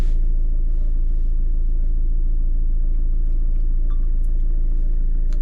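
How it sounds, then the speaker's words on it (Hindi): A diesel car engine idles steadily, its low rumble droning close and loud for the whole stretch with no talk over it. "इस गाड़ी की आवाज़ सुनकर आपको पता चली गया होगा कि ये डीजल गाड़ी है"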